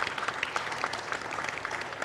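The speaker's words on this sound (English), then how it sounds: "Please join me in giving a warm round of applause to our panelists" A crowd gives warm, steady applause for summit panelists, a dense patter of many hands clapping close and evenly throughout.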